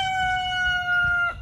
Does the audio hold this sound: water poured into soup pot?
no